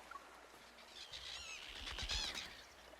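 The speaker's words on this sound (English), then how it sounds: "Seagulls gather at her feet to eat." Seagulls call by the sea in a video game, a few faint, thin cries rising over soft wind and ambient background, fairly distant and without talk.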